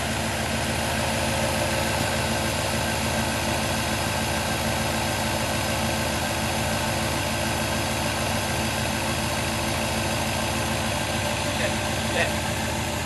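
LS1 turbo engine warming up at idle, giving a steady, close mechanical hum and vibration that stays even throughout, with no clear revving.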